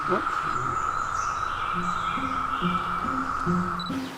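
A steady, droning buzz of swarming periodical cicadas in the eastern US fills the air continuously, with a voice talking faintly underneath and occasional chirps.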